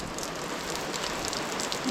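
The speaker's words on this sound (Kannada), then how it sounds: "ಮಳೆ ನೋಡಿ ಸ್ನೇಹಿತರೆ" Steady rain pattering on surfaces, a dense even hiss of drops throughout the short stretch, with no talking.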